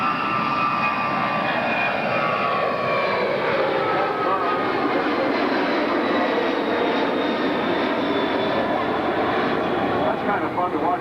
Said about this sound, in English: what I can see of the Dash 8 landing